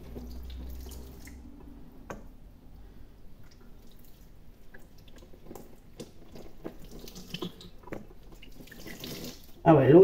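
Tap water runs into a sink while make-up brushes are rinsed under it, a soft steady trickle with small drips and splashes, growing louder and fuller at the very end.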